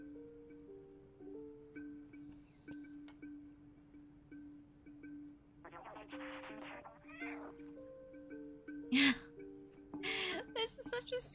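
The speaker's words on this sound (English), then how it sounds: "This is such a sweet little cat." A cat in the video game Stray gives a few short meows among game music and ambient tones, with a voice talking over parts of it.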